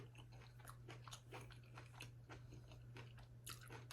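Crunchy chewing and biting of food during a steak and salad mukbang, close and steady with repeated crisp bites over a constant low hum, no talking.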